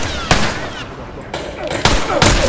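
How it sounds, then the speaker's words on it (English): Sniper rifle shots in The Last of Us multiplayer, three sharp loud cracks spaced about a second apart, each with a short ringing tail. "3 sniper shot headshots in a row, dude."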